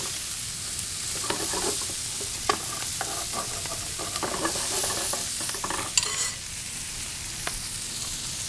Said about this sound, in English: You can start to really smell the shallots getting toasted off in this bacon fat and olive oil.